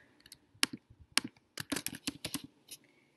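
Clicky keystrokes on a computer keyboard, typed in a quiet room during product variant setup in Clickfunnels, come in short irregular bursts with brief pauses between them, close and fairly crisp, with no talking.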